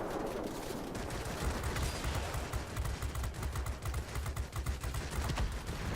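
Rapid aircraft machine-gun fire in World of Warplanes, a dense continuous rattle of bursts over a steady engine drone while attacking bombers in a fighter.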